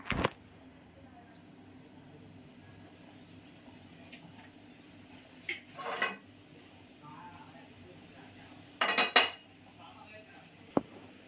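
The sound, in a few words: griddle pan placed on stove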